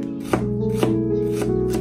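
Kitchen knife cutting peeled fresh ginger into thin slices on a board, with about four crisp, close cuts spaced unevenly over quiet background music.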